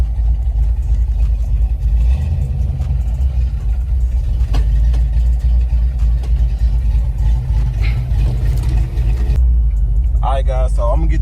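A box Chevy with a newly installed cam idles with a deep, steady, close-up engine rumble throughout, and a brief voice is heard near the end.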